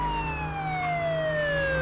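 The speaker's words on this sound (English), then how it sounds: "your car has a siren, and if you use it, people will get out of the way a bit" A police car siren in the True Crime: Streets of LA video game wails loudly and steadily, its tone gliding slowly downward over a low engine rumble, with no talking.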